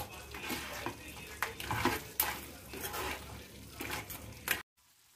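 Crab masala is stirred in a pan as kambali keerai greens are mixed in: continuous close scraping and clinking of a spoon against metal over a soft sizzle, ending abruptly in silence.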